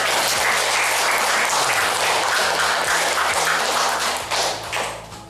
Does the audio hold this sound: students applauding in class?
yes